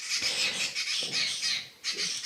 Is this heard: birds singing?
yes